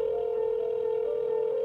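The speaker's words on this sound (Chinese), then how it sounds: "那我就打了，然后我公放" A steady, unbroken telephone dial tone plays over a speakerphone as a call is about to be placed. It holds at an even level throughout with no voices.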